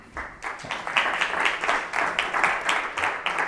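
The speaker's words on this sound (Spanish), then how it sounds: "con un fuerte aplauso para Jurdan." Audience at a university talk breaks into steady applause, many hands clapping in a dense, even patter at moderate distance with no voices over it.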